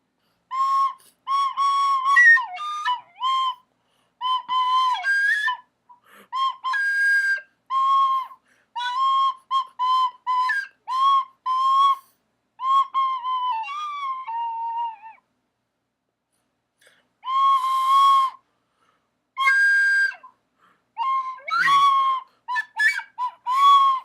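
A shrill, reedy melody in short piping phrases with brief pauses, like a beginner's school recorder, imitated by someone whistling.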